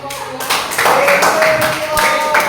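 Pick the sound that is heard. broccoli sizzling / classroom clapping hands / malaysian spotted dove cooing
classroom clapping hands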